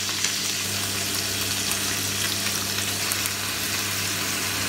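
Octopus caramelizing in a non-stick pan with very little oil as honey is added, a steady close sizzle with faint bubbling and no voices.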